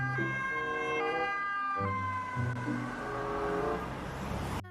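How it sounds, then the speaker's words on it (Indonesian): A toy ambulance siren plays a bright electronic wail that alternates between two pitches, fairly close and moderately loud, running continuously with no speech. "Ada mobil ambulans."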